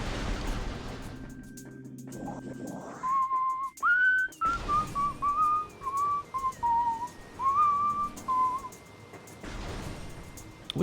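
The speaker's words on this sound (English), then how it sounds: "Whistling is hard." A person whistles a wavering melody of several short phrases, fairly close and clear, over a low background hum, during a livestream of a Metroid Prime randomiser game.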